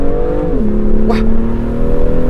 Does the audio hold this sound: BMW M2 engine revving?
yes